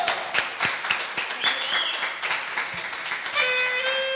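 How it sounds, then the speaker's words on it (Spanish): Audience at a bohemian music night applauding, a fairly close burst of scattered claps that stays steady, with a few tonal sounds toward the end. "Fuerte el aplauso, que se escuche"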